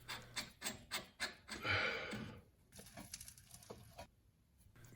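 The rear brake caliper piston of a Grand Caravan is forced back in, making a close, rhythmic series of rubbing, grinding scrapes, then a longer rasp and quieter scraping.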